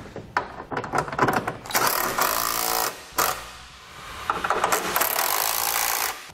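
Scraping and rubbing as a Westin Sure-Grip running board panel is slid off its brackets on a 2018 Ford truck during installation, a few bursts of sliding friction with short pauses, close and fairly loud, no voices.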